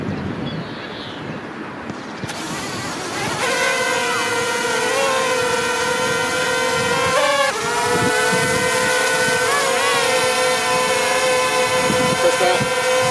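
A Zerotech Dobby drone gives a high, steady buzzing whine that starts up and holds as small rotors spin, with wind rumble beneath and slight pitch wavers as the craft moves.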